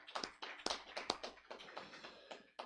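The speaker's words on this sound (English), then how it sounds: "So let's give them a round of applause." A small audience at a Sunday church celebration claps in an uneven round of applause, with quiet, scattered sharp hand claps that rise and fade over a few seconds.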